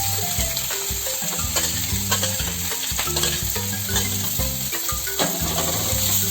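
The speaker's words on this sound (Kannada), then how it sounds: "ಸ್ವಲ್ಪ ಸಾಸಿವೆ ಚಟಪಟ ಹೇಳ್ತಾ ಇದೆ" Mustard seeds spluttering in hot oil for a tempering, a dense, steady crackle and sizzle running throughout with rapid popping close by, no voices present.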